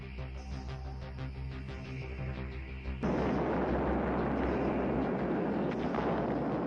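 A bomb explosion, dropped in a military test, bursts in at about three seconds as a loud, broad roar that holds steady to the end, following a tonal hum.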